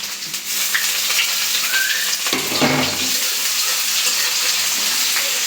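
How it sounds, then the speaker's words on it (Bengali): Garlic and onion sizzling in hot oil while cooking a bottle gourd curry, a steady frying hiss with a brief splashing burst in the middle. "রসুন পেঁয়াজ বাদামি করে ভেজে বাগাটা দিব"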